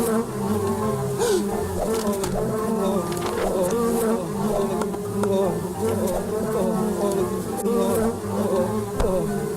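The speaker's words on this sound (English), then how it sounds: "what lovely collection of bugs you have, Mr. Bob." Insects buzz continuously in a dense, close drone of wings, with faint ticks and rustles through it and no talk over the hum.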